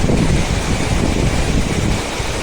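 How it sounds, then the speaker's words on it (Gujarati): Strong cold wind beside a river buffets the microphone in a continuous loud roar, gusting slightly without pause, under cloudy skies. "અને જો ઠંડો પવન આવી રહ્યો છે"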